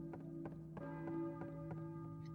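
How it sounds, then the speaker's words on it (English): A church bell tolling in the Silent Hill video game, faint and sustained with a steady ringing hum, repeated soft strikes recurring every half second or so, heard alone with no voices. "the church bell gets louder"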